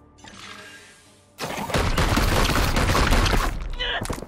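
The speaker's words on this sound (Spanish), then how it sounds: "Empezamos a disparar por aquí arriba." A sustained burst of heavy gunfire in Warhammer 40K: Chaos Gate – Daemonhunters erupts after a quieter lead-in, loud and dense for about two seconds before tapering off.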